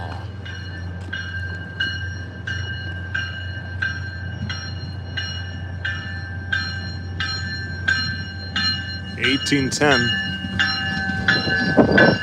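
MBTA train passing close by: a steady low rumble with rhythmic clicking wheels and a repeating bell, rising to louder screeching and clatter near the end, with a person speaking briefly.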